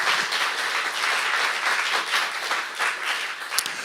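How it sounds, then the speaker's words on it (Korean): A congregation at a Saturday worship service claps hard and continuously. The clapping is a loud, thick, sustained roar of many hands with a few sharper claps near the end. "박수 좀 세게 쳐봐요."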